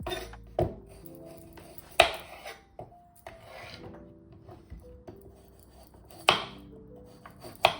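Knife strikes on a board as carrots are sliced very thin for a tofu and vegetable stir fry, a few sharp separate chops spread out with quiet clatter between them.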